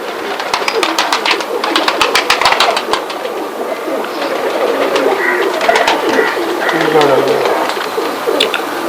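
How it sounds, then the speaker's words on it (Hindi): A Sialkoti pigeon, a Bateera-line breed, gives soft repeated cooing close by, over a busy background of chirping birds and a low engine-like hum. "अपना मेन बटेरा कबूतर है जिससे मैंने नस्ल बनाई आगे"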